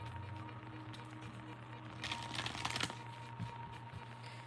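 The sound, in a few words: shuffling tarot cards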